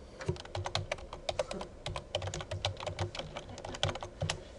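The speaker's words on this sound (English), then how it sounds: "That's what I typed." Rapid, irregular clatter of keys on a computer keyboard during a forensics lab session, a steady close stream of clicks with no voices.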